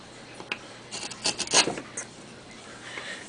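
Veiner gouge cutting into wood by hand, heard as a few short, close scraping and rasping strokes clustered together, quiet and with no talking.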